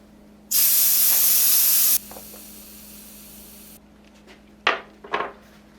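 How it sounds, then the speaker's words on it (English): Air rushing out of an old moped tire as it is deflated: a loud, close, steady hiss for about a second and a half, then quieter handling clicks and knocks. "First thing to do with one of these old tires is let all of the air out."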